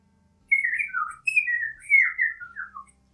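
Chirping bird sound effect within a children's read-aloud story, a clear run of bright whistled chirps and warbling notes, close and alone with no voices.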